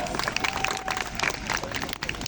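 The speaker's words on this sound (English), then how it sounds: "Give yourselves a round of applause." An audience claps at a bird show in Dubai Safari Park, a burst of scattered applause from a crowd lasting a couple of seconds, fairly close and uneven in rhythm.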